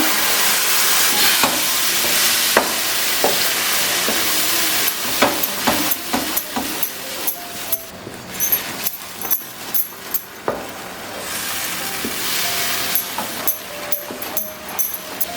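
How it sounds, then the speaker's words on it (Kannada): Ripe banana paste frying in ghee in a pan, a steady hiss and sizzle with intermittent scraping and clinking from stirring throughout, no talking. "ಚೆನ್ನಾಗಿ ತುಪ್ಪದಲ್ಲೇ ಇದನ್ನು ಚೆನ್ನಾಗಿ ಹುರ್ಕೊತಾ ಇರಬೇಕು"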